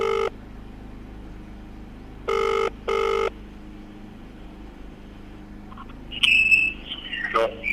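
Telephone ringing on a call being placed, two short ring bursts followed by a pair of longer rings, then brighter tonal beeps near the end over a faint background hum.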